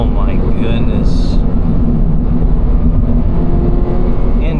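A car's engine drones loudly and continuously while driving on back roads, a close, heavy rumble with some road and wind noise throughout.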